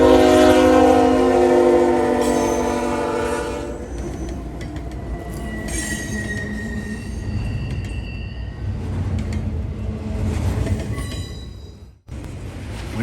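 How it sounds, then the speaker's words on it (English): An eastbound intermodal freight train led by an ET44AC locomotive passes close by a signal bridge, the horn blaring loud at first, then a steady roar of rolling cars and wheels with occasional squeals as it goes by. "an eastbound intermodal comes flying south"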